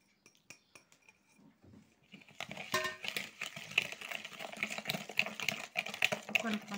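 Three eggs and a cup of sugar are whisked for a simple cake. After a few soft taps, a rapid, steady clatter of the whisk against the bowl runs on under a quiet voice.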